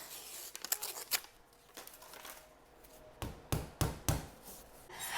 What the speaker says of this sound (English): I'm just going to use my kitchen scissors to cut these into halves.